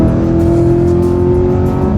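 An Audi R8 with a manual gearbox holds a loud, steady engine drone up close, a strong sustained tone with rich harmonics and no voices over it.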